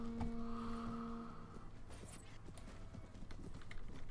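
Horses in the Mount and Blade: Warband video game, Viking Conquest, with rapid hoof clip-clops over a busy battle din and a short horn-like tone at the start, fairly faint overall.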